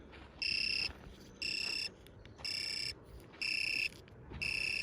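A Garmin inReach Mini 2 satellite messenger beeps an alert tone in five evenly spaced, high-pitched bursts, faint against low background noise.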